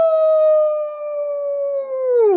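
A person imitates a werewolf-like dog howl with the voice: one long, loud, sustained tone held steady for about two seconds, then falling and trailing off at the end, with no other sound.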